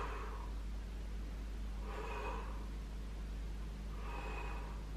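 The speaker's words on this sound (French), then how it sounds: "Je souffle quand je me lève et j'inspire en descendant." Breathing during abdominal exercises, with three forceful breaths spaced about two seconds apart. Exhales push out on the way up and inhales come on the way down, close to the microphone, over a constant low hum.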